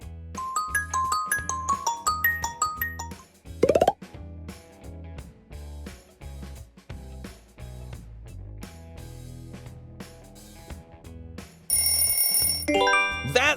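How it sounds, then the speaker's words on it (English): A Xiaomi smartphone ringtone plays as a bright, melodic electronic tune of chiming notes, alone and fairly clear, with a brief sweeping interruption partway through. "That sound belongs to Xiaomi."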